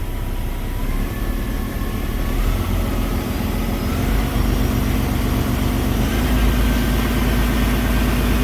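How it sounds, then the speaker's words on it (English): A heavy Paccar diesel truck engine idles steadily after a fuel filter change, with a deep, even rumble and faint whine, close by and continuous, with no voices. "we're just going to let it sit here idling like this for a few minutes."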